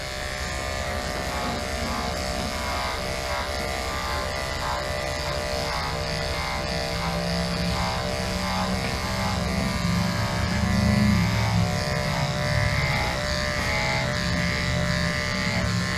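Electric clippers buzz continuously while shaving a shepherd dog, a steady close motor drone that shifts slightly in pitch as the blade moves through the coat, with no talking.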